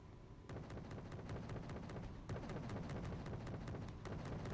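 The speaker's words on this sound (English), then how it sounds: "Oh, and that is their artillery." Artillery fire in the Wargame: Red Dragon strategy game booms in a rapid, regular barrage of sharp reports, one after another with a rumbling bed underneath, faint in overall level and without talk.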